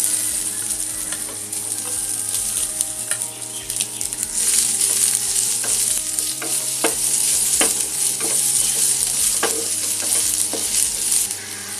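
Onion, ginger and garlic sizzling steadily in hot oil in a pan for a Maharashtrian kulith usal, a continuous loud fry with repeated scraping clicks of a spoon stirring throughout, close up, no voices.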